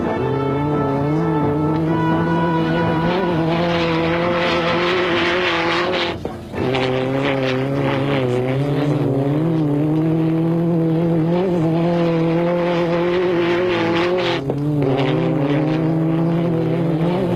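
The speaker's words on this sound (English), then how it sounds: "the gloves were off as Vatanen and Ickx pushed their cars to the absolute limit" A high-revving Peugeot rally car engine screams continuously at full throttle, its pitch rising and falling through gear changes, loud and close.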